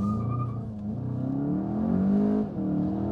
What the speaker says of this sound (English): Let's just see how the acceleration is.